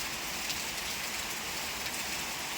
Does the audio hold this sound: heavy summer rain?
yes